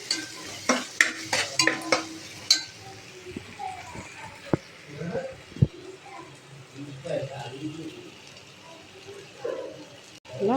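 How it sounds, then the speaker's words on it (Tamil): Carrots, beans, mint and coriander sautéed in a pan for vegetable biryani: a quick run of sharp spatula clanks and scrapes against the pan, then quieter intermittent stirring over a low sizzle, with a voice talking alongside. "கேரட்டு, பீன்ஸு நல்லா வதங்கிருச்சு. புதினா மல்லி நல்லா வதங்கிருச்சு."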